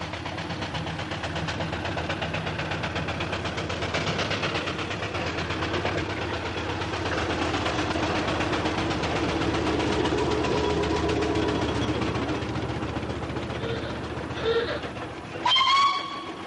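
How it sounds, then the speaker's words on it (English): A Black Five steam locomotive hauling a long train of forty coal wagons, a continuous heavy rumble and rhythmic rattling that swells and fades, with a couple of sharp whistle-like squeals near the end. "the sound of a Black Five pulling 40 wagons of coal"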